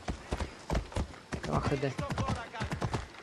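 Horse hooves clip-clopping in the video game Assassin's Creed Odyssey, a quick steady rhythm of hoofbeats close by, with someone talking over it throughout.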